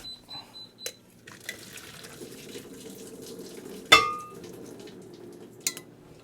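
Boiled carrots are drained in a home kitchen: water runs and splashes into a sink under clanking metal pot sounds, with a sharp clatter midway and a smaller knock near the end.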